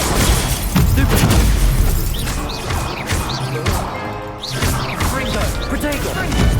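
Stupefy spells cast in Hogwarts Legacy, a series of sharp magical bursts and crashing impacts in quick succession during combat, with game sounds layered throughout.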